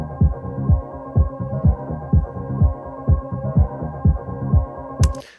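A heavily compressed kick drum in an Ableton house track thumps in a steady, evenly spaced four-on-the-floor pulse, deep and punchy with a sustained low tail, ending with a brief bright click.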